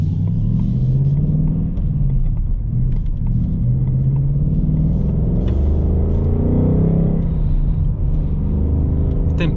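A 2021 Ford Mustang Mach 1 V8 with a 6-speed manual accelerates, its deep steady engine rumble heard from inside the car and rising gradually in pitch across the run.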